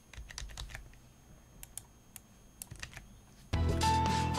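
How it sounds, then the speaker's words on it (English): Clicky computer keyboard typing nearby, a quick burst of irregular keystrokes followed by sparser taps, then a sudden broadband noise covering the last second. "Okay, let me just type that exact name."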